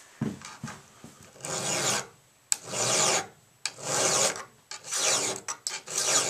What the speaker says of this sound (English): And then you take your flat mill file